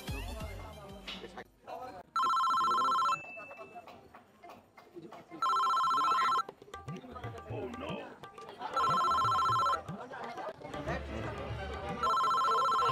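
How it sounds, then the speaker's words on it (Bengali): A telephone rings in repeated loud bursts of electronic tones, about four rings spaced roughly three to four seconds apart, with people talking and household sounds between and under the rings. "দেখি ফোন দিই।"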